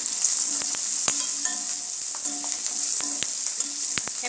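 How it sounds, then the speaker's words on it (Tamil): Small shallots and curry leaves sauté in hot oil in a pan for ghee sambar rice: a steady, close sizzle broken by occasional sharp clicks of a spoon stirring. "நல்லா வதக்கிக்கலாம்"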